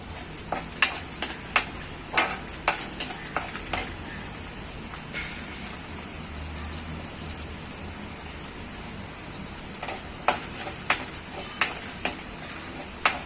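Chopped garlic frying over a high flame in a pan, a steady sizzle broken by sharp, regular clinks of a spoon against the pan, with no talking.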